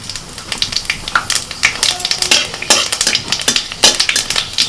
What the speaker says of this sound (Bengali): এবার ডালটা সাঁতলে নেব তার জন্য ফোড়নে দিচ্ছি তেজপাতা পাঁচ ফোড়ন